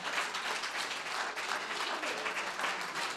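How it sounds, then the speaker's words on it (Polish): Dense, lively applause from a concert audience for the performers, a continuous wash of many hands clapping close and loud for a few seconds. "Brawa, brawa, brawa, brawa, brawa, brawa."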